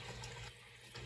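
A small waterfall in a moss and newt tank trickles in a faint, steady wash, with no voices and nothing else breaking the flow.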